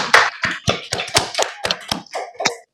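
A few hands clap over an open microphone during an online symposium, about ten distinct, separate claps in an uneven rhythm, close and dry, like a single person or small group applauding.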